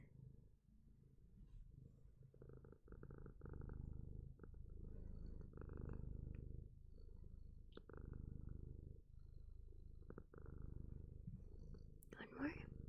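A cat purrs steadily and continuously, close and fairly loud, in a quiet ASMR setting, with a brief rustle near the end.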